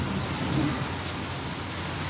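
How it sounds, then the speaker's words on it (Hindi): Steady rain falling outdoors in Pakistan, a dense even wash of patter close by that continues without a break and with no talk over it. "बारिश तो माशाल्लाह होती रहेगी"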